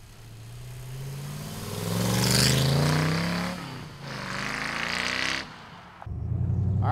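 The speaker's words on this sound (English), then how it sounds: "let's take this factory 5 Cobra for a ride" A Factory Five Shelby Cobra replica with a 5-liter engine drives past, its rumbling V8 swelling as it revs, then dropping away before picking up again near the end.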